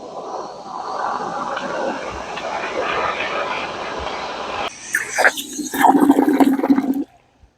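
Expired boat flares being sloshed quickly in water to put them out, a steady rushing hiss that breaks into choppy splashing and sloshing before stopping abruptly, fairly loud and close.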